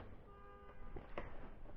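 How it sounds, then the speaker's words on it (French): Car horns honking outside, heard faintly and at a distance as short toots over a steady low rumble of background noise. "il y a des gens qui klaxonnent"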